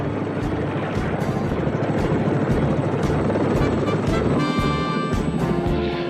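The Blue Thunder helicopter flies nearby with a steady, loud rotor chop and engine whine throughout, and a faint higher tone rises near the end.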